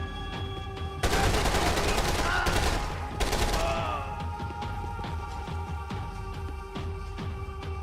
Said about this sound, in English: The assault rifle.